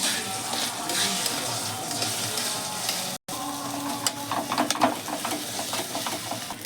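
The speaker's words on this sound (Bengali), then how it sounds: "এবারে ডিমটা ভেজে নেব।" An egg fries in hot oil in a pan while chow mein is being made, giving a steady close sizzle with some scraping and stirring clatter and one brief dropout midway.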